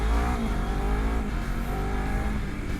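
A Honda CBR250RR SP QS 2023 motorcycle riding fast, its engine droning steadily and loud up close with a constant roar of wind and road noise throughout.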